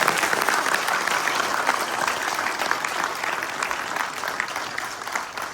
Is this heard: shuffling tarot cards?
no